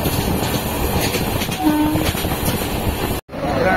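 Passenger train standing at Chiplun station, a steady loud rumble of engine and carriages with a brief whistle-like tone midway and a sudden short cut-out near the end, voices faint in the background.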